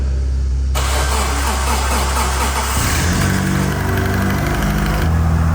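A Mitsubishi Lancer Evolution engine with a new exhaust cranks and catches on its first start, then settles into a loud, rough idle with a deep steady rumble close by.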